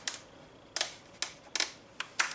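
Aftermarket sun visor for a Honda being worked through its mechanism, giving six crisp plastic clicks at irregular intervals, close and fairly quiet.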